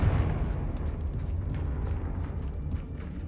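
A Confringo blasting spell explodes in Hogwarts Legacy, a deep booming rumble that stays loud and steady throughout, with faint crackling bursts on top and no speech.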